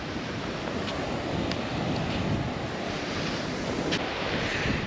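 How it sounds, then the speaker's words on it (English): Wind blows hard outdoors at a fireworks shoot, a constant loud rushing roar buffeting the microphone for the whole stretch, with a few faint higher ticks over it and no voices. "It's a little windy out here"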